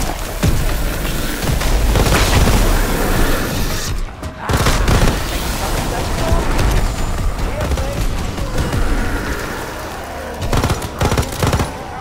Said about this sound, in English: Must be our bloody explosions.